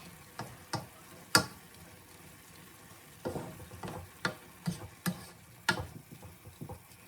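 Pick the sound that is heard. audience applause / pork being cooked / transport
pork being cooked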